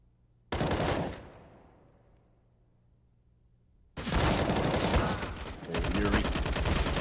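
Loud rifle sprays in CS:GO on the map Mirage during a match, one burst that decays into room echo, then a longer sustained volley of rapid automatic fire that briefly dips and resumes.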